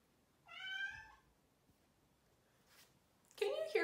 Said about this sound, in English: Can you hear Beatrix still meowing